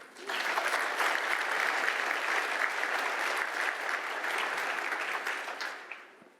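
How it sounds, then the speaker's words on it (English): A conference keynote crowd applauds the speaker Brian, a full, dense burst of many hands clapping that holds steady for several seconds and then tapers off. "Can we give another hand of applause to Brian?"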